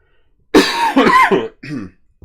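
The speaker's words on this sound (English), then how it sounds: "People like to hear me cough." A man coughs and clears his throat up close, several loud rasping bursts in quick succession followed by a shorter gravelly clearing.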